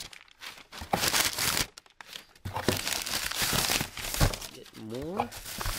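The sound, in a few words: packing paper being crumpled while unboxing an eBay parcel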